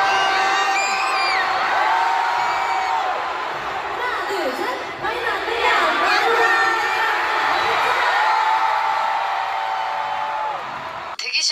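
A large Manila concert crowd roars and cheers without letup, with whoops and high shouts rising over a dense, steady wall of voices that fades sharply right at the end.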